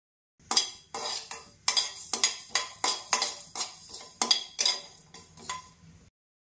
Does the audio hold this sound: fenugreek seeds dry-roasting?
yes